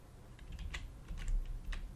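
Quiet typing on a computer keyboard, a few sparse key clicks over two seconds against a low rumbling background, close, with no talk.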